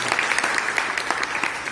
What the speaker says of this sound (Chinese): 大家掌声鼓励一下好不好？